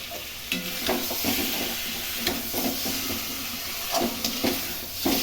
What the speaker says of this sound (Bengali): তো এবার দেখো, আমি ডিমটা দিয়ে দিচ্ছি।